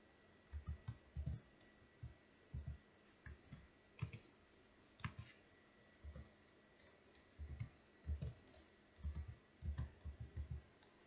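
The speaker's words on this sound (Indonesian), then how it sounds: "lalu saya tulis atau saya ketik" Keys clicking on a computer keyboard in rapid irregular bursts while entering a spreadsheet formula, close and fairly quiet, with no talking.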